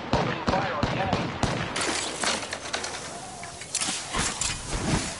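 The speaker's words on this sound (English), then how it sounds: "Opening fire on the enemy." Video game gunfire: bursts of sharp cracks and rattling automatic shots, loud and close, clustered at the start and recurring among noisy battle clatter.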